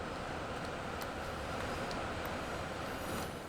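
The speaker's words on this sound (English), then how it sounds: "That's a coal train." A coal train rolls along in the Transport Fever 2 video game, a steady, low rumbling rail drone with faint wheel clacks, continuous and even throughout.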